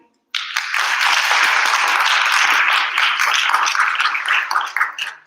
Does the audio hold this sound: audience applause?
yes